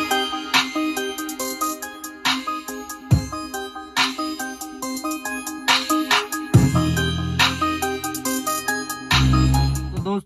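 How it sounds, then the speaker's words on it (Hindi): A song streams from a phone over Bluetooth through a Sony a416bt car stereo, with clear repeated melodic notes and heavier bass passages playing loudly and continuously, and no one speaking. "अभी मैं यहां पर एक म्यूजिक यहां पर प्ले करने वाला हूं।"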